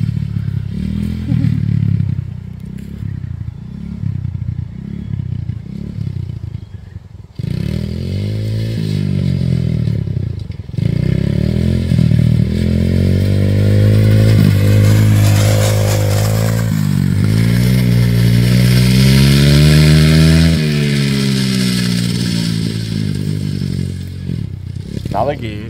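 A child's dirt bike engine revs and climbs through gear changes, its pitch rising and dropping in steps at close range, with an adult's voice speaking over the engine at times.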